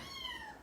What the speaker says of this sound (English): you can probably hear them meowing